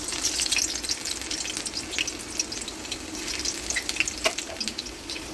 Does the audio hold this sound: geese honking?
no